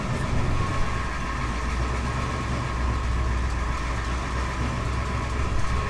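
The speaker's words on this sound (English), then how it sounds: "here she is idling, doing her thing." A steady low engine rumble idles continuously with no change in pace, a dense mechanical hum filling the background throughout.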